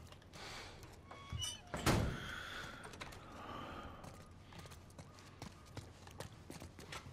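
In The Last of Us, a heavy door slams shut with one solid, close thunk, preceded by scuffing footsteps and faint movement and followed by quieter shuffling and creaks.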